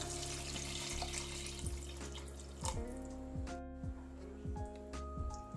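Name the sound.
water poured into sambar pot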